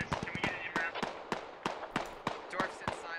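DShK heavy machine gun in the game Squad, firing sharp repeated shots in short uneven bursts, fairly close, with a voice talking over the gunfire.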